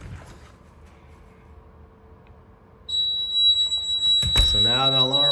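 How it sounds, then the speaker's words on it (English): ADT security system alarm going off after a door is opened: after a quiet stretch of low room hum, a loud, steady high-pitched siren tone starts abruptly and keeps sounding, with a person talking over it near the end. "So now the alarm sounds,"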